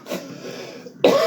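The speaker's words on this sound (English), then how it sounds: "And that's me coughing." A single close cough with a throaty rasp, followed by a brief pause and then another sharper cough burst.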